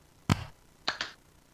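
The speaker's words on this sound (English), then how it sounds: "let's go ahead and do a sync clap" Sync claps before recording a podcast episode: one sharp, close clap followed by a quick pair of lighter claps a moment later, alone in a quiet room.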